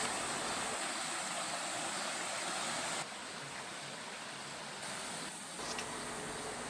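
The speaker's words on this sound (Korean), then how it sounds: "물소리가 참 듣기 좋아요." Steady rushing flow of a stream beside a well-kept volcanic trekking trail, continuous broadband water noise close by with no voices.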